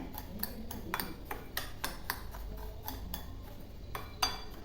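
A spoon stirs roasted semolina mixed with oil in a pan, tapping and scraping the metal in a quick, fairly regular series of light clinks over a low background hum.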